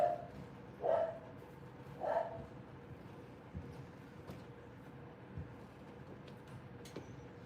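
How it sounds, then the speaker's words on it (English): A pet dog named Mish barks a few times near the start, three short sharp barks spaced about a second apart, then the room goes quiet apart from faint background noise and a few soft knocks. "What are you barking for, Mish?"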